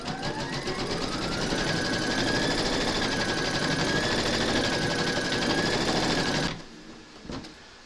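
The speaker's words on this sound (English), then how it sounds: "Pop your hoop into your machine and stitch round number two to secure it." An embroidery machine stitching an in-the-hoop applique: a loud, rapid, steady mechanical stitching chatter with a rising and falling whine, running continuously for over six seconds before stopping abruptly, followed by a faint brief clack.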